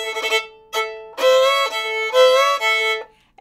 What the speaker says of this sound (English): You can also do 2 taters and 2 chops, and that's going to sound like this.